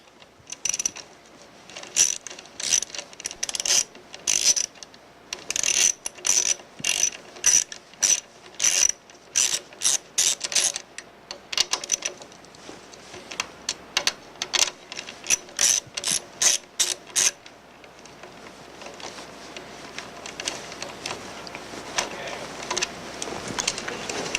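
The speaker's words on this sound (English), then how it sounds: "The motor lead wires will be removed using a 3/8 inch deep socket." A ratchet with a 3/8 inch deep socket removes motor lead wires in a ProMax40 motor control box, giving close, rapid bursts of sharp clicking that give way to a steady hiss.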